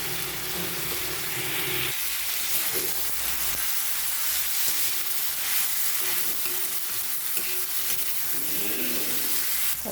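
Onion fries in a pan with a continuous close hissing sizzle and occasional stirring scrapes, steady across the whole stretch with no clear talking.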